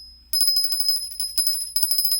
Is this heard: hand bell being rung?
yes